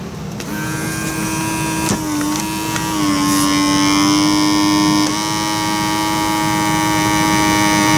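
A printer runs while printing tractor model parts. It gives off a steady, fairly loud whine whose pitch shifts in small steps, with a few faint clicks along the way.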